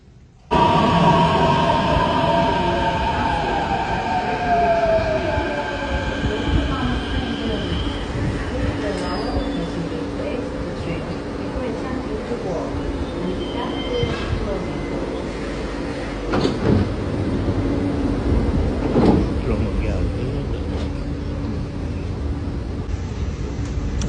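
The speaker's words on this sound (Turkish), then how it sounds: "an itibariyle metroya bindik" An Istanbul metro train heading to Sabiha Gökçen Airport hums and rattles along, with a pitch sliding as it moves off, occasional door thumps and clunks, and people talking in the background.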